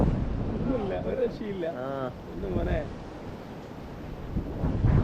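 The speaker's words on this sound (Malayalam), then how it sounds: "അതെ കാറ്റും വരുന്നുണ്ട്" Steady wind buffets the microphone with a low rumble throughout in the forested hills of Kakkadampoyil, while people talk over it.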